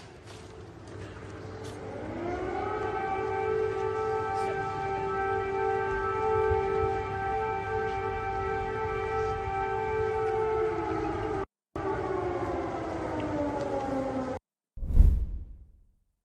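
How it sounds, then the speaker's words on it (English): An air raid siren wails in the background in Ukraine, rising slowly, holding a long steady harmonic tone and then falling away, with a sharp whoosh at the end. "Ukrainian President Zelensky, you'll hear in the background an air raid siren go off"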